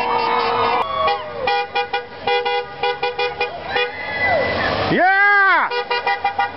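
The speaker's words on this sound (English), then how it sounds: "Lots of people driving by and honking." Car horns honk repeatedly from passing vehicles at a roadside illegal immigration protest in Syracuse, New York, a long loud blast near the end, with voices shouting and talking throughout.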